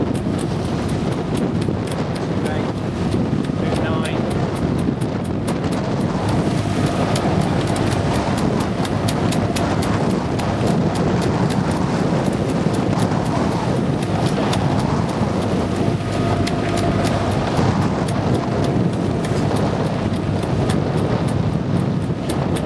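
A small boat crossing the Deben bar runs its engine at raised revs, a steady drone buried under constant heavy wind buffeting on the microphone and rushing water, loud and unbroken throughout with no talk.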